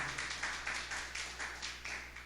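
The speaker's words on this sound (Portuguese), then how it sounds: "Uma salva de palmas para a Júlia, que sabe vários nomes aí dos seus alunos." A small audience at a church seminar talk gives a brief round of applause, faint and somewhat distant, with soft pulsing claps that gradually fade.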